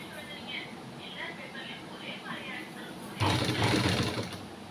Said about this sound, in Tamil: அந்த துணியில் இந்த தையல் விழணும் அதனால் பார்த்து பொறுமையாக அடிச்சிட்டு வாங்க